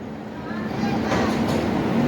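Low rumbling train noise on a platform at Ahmedabad Kalupur railway station, a steady broadband roar that grows slightly louder, with people talking over it.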